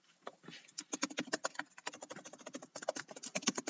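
Fingers type quickly on a computer keyboard in uneven bursts of close, crisp keystrokes, with short pauses between the bursts. No voices are heard.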